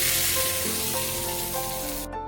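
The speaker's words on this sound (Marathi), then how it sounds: "आता ही फोडणी आपल्याला चटणीवरती घालून घ्यायची आहे।" Hot cumin tempering poured onto chutney sizzles in a loud, dense hiss that continues steadily close by, then cuts off abruptly near the end.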